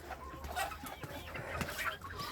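Young roosters from a backyard brood cluck and chatter continuously at moderate distance, a busy overlapping flock sound with no talking.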